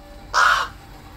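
A young pet raven gives a single loud, harsh caw, a raspy call lasting about a third of a second against a quiet room.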